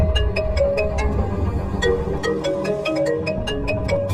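A phone rings as a friend calls, a repeating electronic ringtone melody with bright rhythmic pulses heard clearly over a low background hum.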